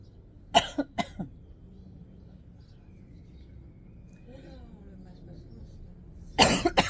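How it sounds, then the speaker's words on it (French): A few sharp coughs close by at the start, then quiet with a faint murmur, and another burst of coughing near the end. "j'ai appuyé sur un point, ça me fait tousser"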